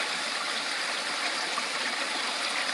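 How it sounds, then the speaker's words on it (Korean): A mountain valley stream flows in a steady, soft rushing murmur with no break, heard fairly faint and alone. "물들이 흐르고 있습니다"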